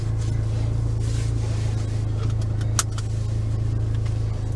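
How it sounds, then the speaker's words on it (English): A 2015 Porsche Macan S AWD with 73,507 miles idles steadily, its exhaust holding a loud, even low drone throughout, with a brief sharp click near the middle. "I like that exhaust note."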